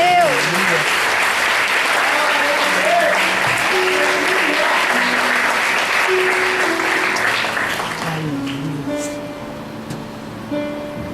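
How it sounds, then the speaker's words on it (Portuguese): Church congregation clapping for Jesus Christ during an evangelical sermon, loud sustained applause with organ or keyboard tones underneath, fading slightly in the last few seconds. "Quem pode aplaudir a Jesus Cristo?"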